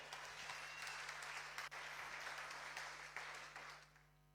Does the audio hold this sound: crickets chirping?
no